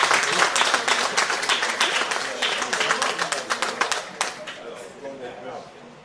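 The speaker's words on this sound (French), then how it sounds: "Merci d'applaudir la conseillère municipale." Lively applause for a municipal councillor at a town council investiture, many hands clapping in a dense close burst that gradually thins out and fades.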